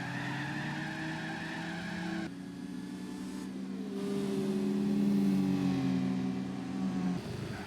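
A Honda City Turbo II races through the tight driving park track in Gran Turismo 4. Its engine drones steadily with rising and falling pitch, and tires squeal and skid through corners, loud and continuous with no talk.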